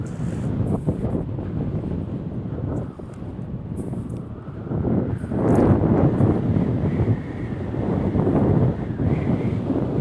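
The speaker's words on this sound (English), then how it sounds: "And this wind definitely isn't going to help anything." Outdoor wind buffeting the microphone, a continuous low roaring rumble that swells and eases in gusts, loud and close, with no talking.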